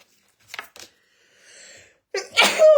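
A single person sneezes close to the microphone, a quick intake of breath followed by a loud, explosive burst in a quiet room.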